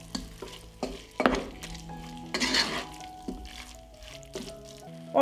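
Chicken and paprika fry in a pan while being stirred, a sizzling hiss joined by scraping utensil strokes and a few clinks of metal against the pan, close and with no voice.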